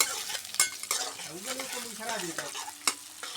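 Onions frying for samosas are stirred in a pan, close scraping strokes and clinks of a spoon over a soft sizzle, with a few sharp knocks against the metal.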